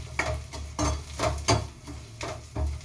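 Onions frying in a pan for chicken curry, a steady sizzle broken by five or six rhythmic scraping stirs of a spoon against the pan, close and moderately loud.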